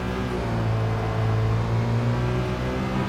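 Citroën GT road car in Gran Turismo 7 at Circuit de La Sarthe, its engine revving hard under acceleration in a steady loud whining drone that rises and falls slightly, close and continuous with no talking.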